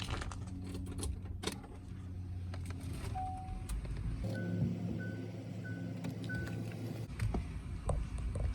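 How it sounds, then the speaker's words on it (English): The rear A/C fan blower of a 2004–2006 GM truck, which stays on with the ignition off, runs as a quiet steady whir inside the cab, joined midway by a series of short electronic chime tones. "Y'all are hearing the fan blower, the rear fan blower."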